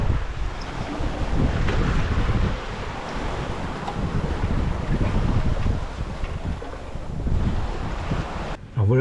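Wind and waves at sea aboard a solo sailboat crossing from Martinique to Guatemala, with steady rushing wind buffeting the microphone over the low, continuous wash of surf and water, unbroken until a brief knock at the end.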